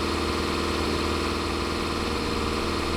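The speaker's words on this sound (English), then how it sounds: "it's so nice driving a different tractor" Farming Simulator 25 tractor engine drones steadily while driving, a constant loud mechanical rumble with vibrating low hum and no breaks.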